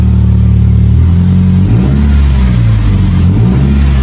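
A stock Toyota Corolla engine revs hard with its exhaust cutout open, giving a loud, continuous, close-up roar that rises and dips through the whole stretch.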